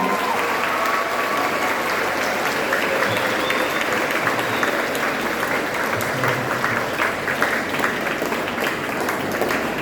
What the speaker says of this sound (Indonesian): Tepuk tangan yang meriah untuk semuanya.